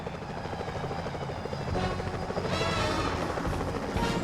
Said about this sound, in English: Security choppers are bad news.